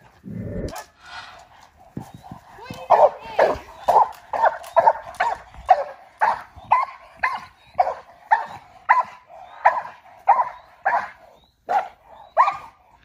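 A dog barks repeatedly in a steady, rhythmic series of loud, close barks, continuing for several seconds without talk, warning off a home intruder.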